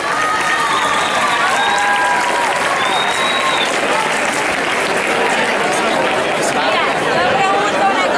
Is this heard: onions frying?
no